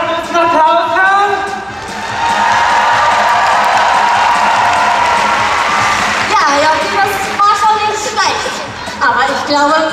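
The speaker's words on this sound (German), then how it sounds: "kann ich euren allerliebsten Applaus hören?" A large arena crowd at a Disney on Ice show in Zürich claps and cheers, a sustained loud roar of applause and shouting that swells and holds, with a voice speaking over the start and end.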